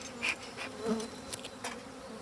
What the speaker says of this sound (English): A lot of hot bees, smokers on the edge, on the end.